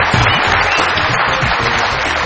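A dense studio audience applauds continuously and loudly to welcome a guest on a Pakistani comedy talk show, a steady wash of many hands clapping with no break and no talk over it.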